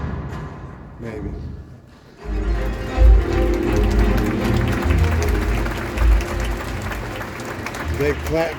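Theater audience applause at a season reveal event swells after a slamming garbage can performance, a dense, steady wash of clapping that holds loud and near for several seconds, with bursts of louder claps.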